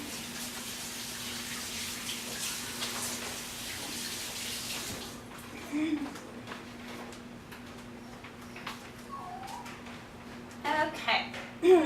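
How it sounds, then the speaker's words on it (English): Running tap water rinses raw-chicken residue off hands at a kitchen sink during a stir-fry cook, a steady broadband splash for about five seconds, then quieter faint clinks and small kitchen handling noises. "I'm going to rinse my hands real quick"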